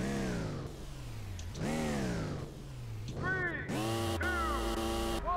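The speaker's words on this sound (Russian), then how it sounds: "Вот звук это раздражает, когда они газуют просто на месте," Game car engines in Street Legal Racing: Redline rev repeatedly in place, rising and falling whines layered over each other, loud and continuous with a voice talking underneath.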